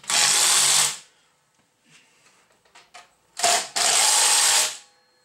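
Power tool whirring while a DSM grinder part is tightened down: two loud, close bursts of whining motor about a second long each, separated by quiet clicks and small handling sounds.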